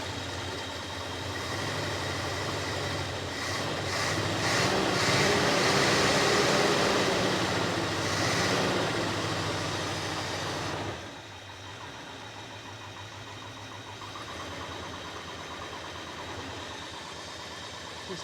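The engine of a 1972 International Scout 1210 pickup with a misfire runs under a little throttle, a rough mid-pitched drone that swells for several seconds, then drops back to a quieter uneven idle; no talking.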